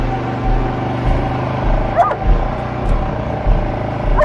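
A dog barks a couple of times, short sharp yaps spaced apart over a steady low rumble of background noise.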